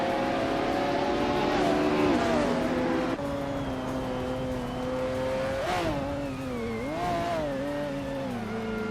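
Racing cars in a video game, led by a 1989 Ferrari F40 Competition alongside an Alfa Romeo 155, engines droning loud and continuous with pitch rising and falling as they shift and rev.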